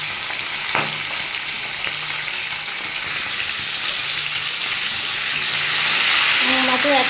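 Tilapia fish fries in hot oil with a loud, dense, continuous sizzle close by, steady for several seconds with no voices.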